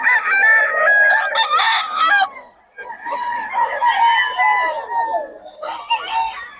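Roosters, Boss Ray's fighting chickens, crow one after another in long, loud calls with a short gap between, close and clear with no talk over them.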